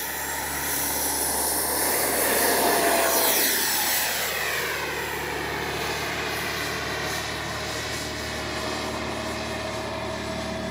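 A Freewing MiG-29 Fulcrum RC jet takes off with landing flaps set, its steady electric ducted-fan whine swelling loud and then holding as it climbs away. No talking.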